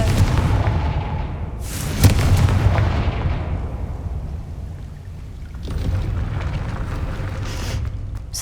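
The Confringo fire spell in Hogwarts Legacy sets off heavy booming explosions: a roaring blast that fades over several seconds, then a second deep rumble, loud and with no talking.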